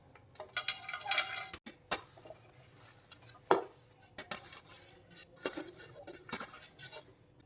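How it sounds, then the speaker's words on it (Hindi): Scattered clanks and taps of mustard greens and utensils dropping into a metal pressure cooker, irregular and close, with brief rustles between. "सबसे पहले हम कुकर में सरसों डाल रहे हैं।"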